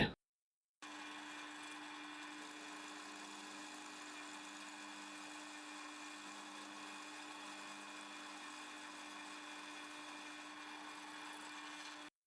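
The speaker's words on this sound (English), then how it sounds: "We're now going to drill the holes, in my case, 1 inch in diameter." Steady whining drone of a power drill boring 1-inch holes in wood, running continuously for several seconds, close and fairly loud, after a brief silent start.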